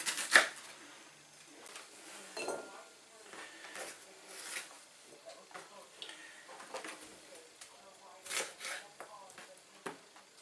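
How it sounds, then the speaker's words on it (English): A knife chops a red pepper on a board in a home kitchen, irregular close taps and scrapes spread across the clip, fairly quiet with scattered sharper cuts and some background movement. "So it's just chopping a lot of the veggies up."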